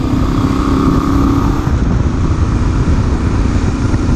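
A Voge 800 Rally motorcycle engine runs steadily while riding, a loud continuous drone with constant road rumble and no voices.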